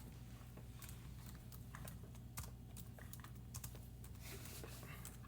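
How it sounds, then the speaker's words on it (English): Rapid clacking of keys on a computer keyboard, steady and close, over a low background hum. "I hear the typing is authentic."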